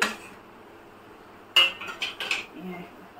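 A metal lid clatters onto a pan of simmering Bengali pomfret fish curry, a sharp clink followed by a few smaller rattles and knocks, close and moderately loud, with no talking.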